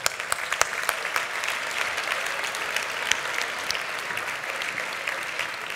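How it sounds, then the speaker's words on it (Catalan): An audience at a Vic sports awards gala applauds the mayor and officials on stage, steady clapping from a crowd throughout with a few louder claps standing out. "Un aplaudiment per ells tres."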